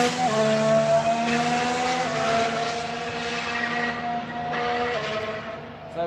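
A Renault racing car does a practice start, its engine holding a loud, tonal, high-revving whine with stepped pitch changes, near and sustained throughout.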